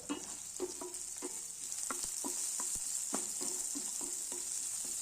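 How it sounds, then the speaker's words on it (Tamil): Steady soft sizzle of sautéing over a low flame for crab rasam, with scattered stirring scrapes and taps of a spoon in the pan, close and unhurried, with no voices. "இப்போ அடுப்பை சிம்மில் வச்சுருங்க சிம்மில் வச்சுட்டு பொறுமையாக வதக்கி விடலாம்"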